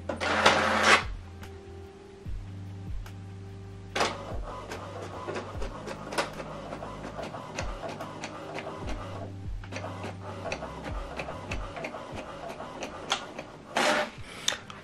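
An HP Deskjet 3700 all-in-one printer prints a document, with close mechanical whirring, repeated clicks and ticks, steady motor hums and short louder feed bursts at the start and end. No one speaks.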